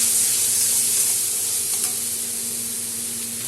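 Ground coriander and cumin being sautéed in a hot pan for a Bengali potato curry give off a steady, close, even sizzle that hisses on without a break and with no voices.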